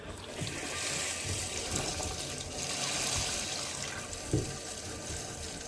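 Water rushes as it fills the tank of a Glacier Bay Power Flush dual flush toilet, a soft, steady hiss and gurgle heard close up without speech.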